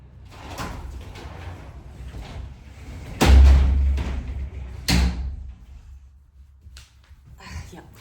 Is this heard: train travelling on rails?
no